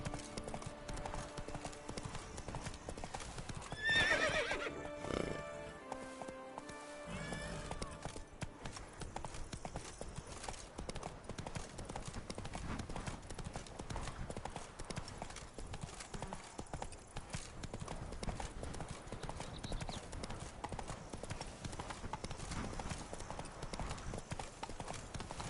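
Roach the horse gallops in The Witcher 3, steady clip-clop hoofbeats running continuously at close range amid game music and ambience, with a brief louder burst early on.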